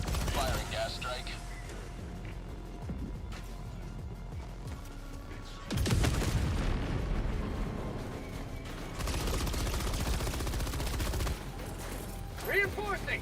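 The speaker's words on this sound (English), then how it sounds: "Requesting orbital strike. Firing gas strike." Orbital gas strike and gunfire in Helldivers 2, sustained rapid firing with a heavy blast swelling partway through, loud and dense, then easing into scattered shots.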